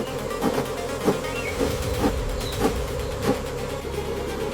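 Wild honey bees swarm around a giant jungle beehive during a smoked honey harvest, a dense continuous buzzing hum with droning insect tones rising and falling, several louder passes close by over steady background noise.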